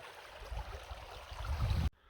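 Fast-flowing river water pours over a weir on a December day, a steady close rush of broadband noise that cuts off abruptly near the end.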